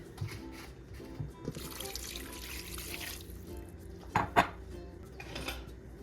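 Water pours and splashes into a metal pan while cooking dim sum chicken feet, with clinks of utensils and cookware, fairly close, then a couple of sharper clatters.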